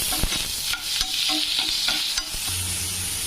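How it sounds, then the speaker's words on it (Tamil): Chopped onions sautéing in a hot pan, a close continuous sizzle with repeated scraping and clinking stirs of a spoon, and no voices. "வெங்காயம் நல்லா சிவக்க வதங்கிடணும்."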